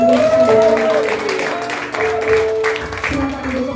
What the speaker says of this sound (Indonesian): Tepuk tangan sekali bagi Tuhan.